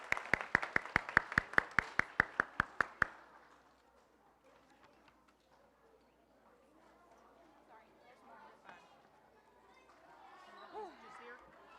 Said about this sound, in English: One more round of applause for you guys.